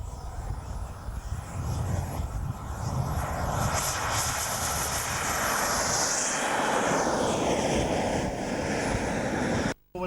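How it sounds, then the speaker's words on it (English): A model F-100D Super Sabre jet flies at a Scottish model airshow, a loud continuous roaring engine with a sweeping pitch as it passes, wind-buffeted and outdoors, cutting out abruptly near the end. "And this is F100D Super Sabre."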